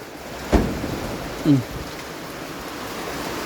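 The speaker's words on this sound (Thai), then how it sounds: "ฝนมันสาด" Heavy rain driven by wind makes a dense, steady broadband hiss. Two brief soft thuds and a short faint voice-like sound break through the rain.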